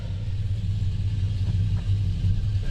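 An old Jeep Grand Wagoneer that had sat seized for years rumbles out of a garage, its engine a steady, loud low idle drone with no clear revving.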